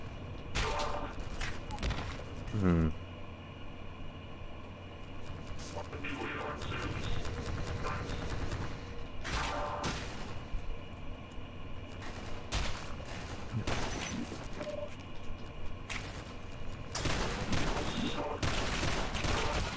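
Rapid bursts of gunfire crackle from characters moving and shooting in a video game, with repeated volleys and single shots scattered throughout at moderate distance, over a steady ambient bed and occasional talk.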